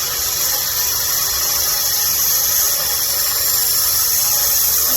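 Old sandpaper rubbing against a Buck 110 drop point knife, a steady loud scratchy abrasion sound that runs continuously without pauses or voices.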